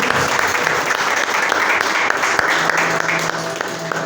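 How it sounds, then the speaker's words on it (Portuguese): A church congregation applauds together during a worship service, dense steady clapping filling the room at an even level throughout, with faint voices mixed in beneath. "Aplauda ao Senhor Jesus."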